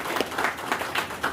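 Applause from an audience at a Ganda community gathering, a dense, steady patter of many hands that swells in a few brief surges over a little more than a second, with no voices on top.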